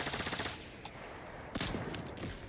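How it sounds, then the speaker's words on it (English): Submachine gun on a turret-armed mech in Trailmakers firing a loud, continuous rapid burst that briefly thins out, then another sharp, dense volley kicks in, with no talking. "Has turret arms, got a submachine gun there, and then a cannon"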